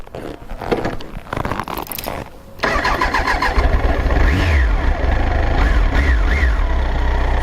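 A four-cylinder motorcycle engine starts after some rustling, then idles and revs with a smooth, steady mid-pitched drone, fairly close.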